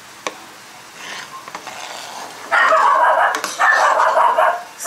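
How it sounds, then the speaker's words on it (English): A pet dog barks and yips in a kitchen where salmon, broccoli and mashed red potatoes are cooking, producing loud, close bursts over a faint sizzle. "Don't mind my dog."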